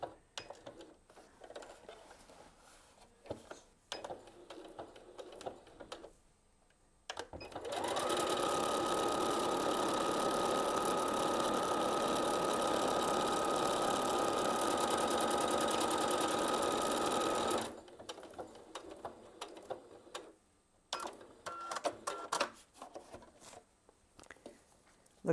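A Husqvarna Viking Onyx 30 sewing machine stitches a combination pattern in one steady, loud, continuous mechanical run of about ten seconds, with quieter handling noises before and after.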